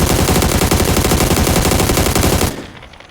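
Loud, rapid automatic gunfire from PUBG on Xbox One hammers in a dense continuous burst, then stops abruptly and leaves a fading tail.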